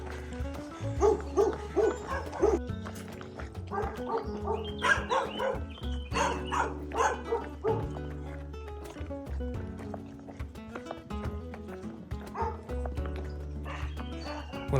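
Several village dogs on the Dragonte stretch of the Camino Francés keep up a continuous, overlapping chorus of barks and yips, near and loud, with a steady outdoor rumble beneath.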